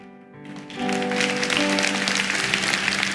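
Church congregation breaks into applause, a dense wash of many hands clapping that swells in after a brief tonal hum and holds steady, moderately loud and roomy.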